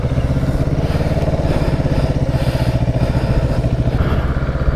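QJ Motor SRK 700 motorcycle engine running close and loud, a steady pulsing low rumble with a fast even throb and no voices over it.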